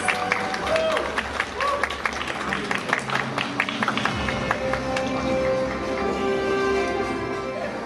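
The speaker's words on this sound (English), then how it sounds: "Let's give them one more round of applause as they continue to inspire us with their talent and grace." A pageant audience applauds contestants with scattered, irregular clapping and crowd noise, while voices talk over it throughout.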